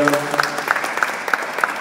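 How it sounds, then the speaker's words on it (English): An audience at a festival panel on artist-activism applauds, with scattered claps in a loose rhythm that sound fairly close. A voice speaks underneath at the start. "Let's have a big round of applause for our panelists,"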